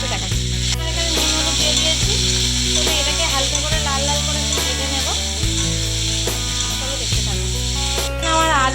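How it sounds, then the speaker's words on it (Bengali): Cauliflower and potato frying in mustard oil make a bright, steady sizzle, heard under a loud melodic music track for the whole stretch. "সর্ষের তেল দিয়ে দিচ্ছি এখানে ফুলকপি আর আলু দিয়ে দিয়েছি"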